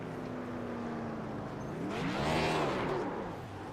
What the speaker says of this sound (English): I'm not sure what kind of burnout I want to do